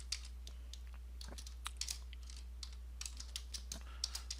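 Soft clicking of computer keyboard keys, typed in short irregular bursts at close range against a quiet background with a low steady hum.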